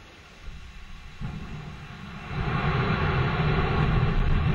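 The Vulcain main engine of an Ariane 5 rocket ignites at launch: a broad, rumbling roar swells in two steps and grows louder and denser throughout.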